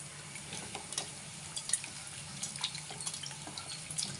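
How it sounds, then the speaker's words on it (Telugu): A little water poured into thick tamarind paste for tamarind pulihora, with soft wet splashes and squelching stirring that keep going steadily at close range, with no talking. "కొంచెం నీళ్ళు వేసుకొని ఇలా మిక్స్ చేసుకోవాలి మొత్తము"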